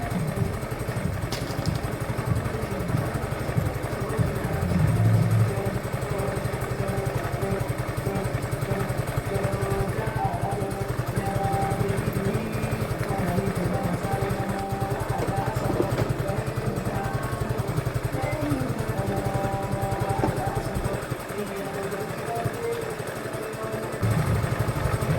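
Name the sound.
125cc scooter engine running on a quick ride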